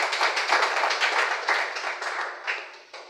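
Audience applause at an entrepreneurship event, with steady clapping from many hands close by that fades slightly toward the end.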